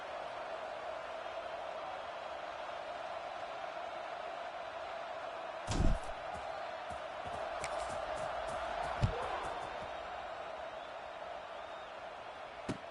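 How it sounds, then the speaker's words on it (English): A stadium crowd in the NCAA 26 college football video game holds a steady, even roar throughout, broken by a couple of sharp thuds partway through. "this crowd now ready to get behind them"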